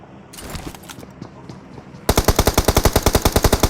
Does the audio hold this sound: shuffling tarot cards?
no